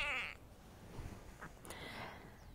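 A pet cat meows once, loud and close, at the very start while being freed after getting stuck, followed by rustling and faint handling noise.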